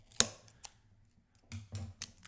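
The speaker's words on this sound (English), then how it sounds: "There's this weird little bubble on the top that I'm trying to cut through," Blade cutting through the seal on top of a Broken Barrel whiskey bottle: a few faint, sharp snips and scrapes, close by, separated by short pauses.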